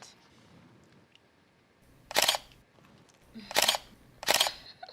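A camera shutter fires three times while a selfie is taken, sharp crisp clicks about a second apart after a quiet pause, with faint talk nearby.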